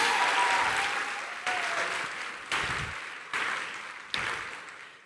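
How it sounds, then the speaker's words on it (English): An education summit audience gives loud, dense applause for City Year volunteers, a broad roar of many hands with several sudden renewed surges that each fade slightly before the next swell. "Let's give them a big round of applause."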